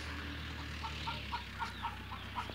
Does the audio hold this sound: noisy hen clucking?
yes